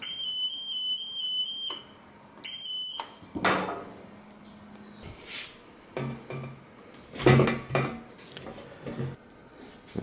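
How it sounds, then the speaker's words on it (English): A button wired to a sounder on a homemade lift panel sets off a shrill, high electronic alarm in two bursts, followed by clicks, clunks and handling knocks of the panel. "This is the alarm sounder."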